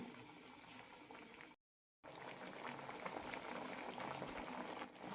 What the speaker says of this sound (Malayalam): ലോ ഫ്ലെയിമിലിട്ട് തിളപ്പിക്കാം.